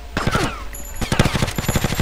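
Gunfire in the video game GTA 6 during a bank robbery mission, rapid automatic bursts of shots in a fast, steady rhythm, loud and close.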